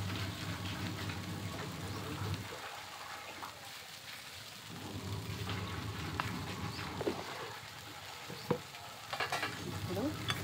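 Ivy gourd curry with salt gets stirred in a pan, a quiet ongoing sizzle broken by soft scraping passes and a few small clicks of the spoon.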